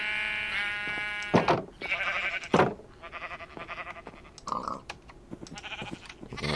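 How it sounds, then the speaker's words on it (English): Minecraft sheep bleat repeatedly in quick, wavering calls, overlapping with light clicking and game effects in a continuous, close mix with no speech. "We can have some more sheep."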